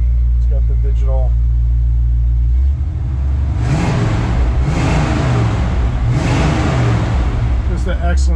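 A 1972 Chevrolet C10 short bed pickup engine idles low and steady, then revs up in several rising bursts, rumbling close by in an enclosed space.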